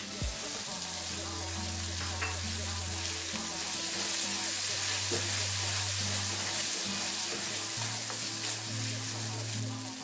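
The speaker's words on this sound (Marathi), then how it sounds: "आता यामध्ये वाटून घेतलेलं मसाल्याचं वाटण घालायचं, चांगलं असं परतवून घ्यायचं" Ground masala paste sizzles and crackles steadily in hot oil while being sautéed for a Maharashtrian dubuk vadi curry, a close, continuous frying hiss with occasional stirring scrapes and a low hum underneath.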